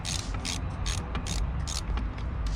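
A 10 mm ratchet clicking steadily while loosening the negative battery terminal on a 2002-2007 Subaru Impreza, a close, rhythmic run of sharp metallic pawl ticks with no speech.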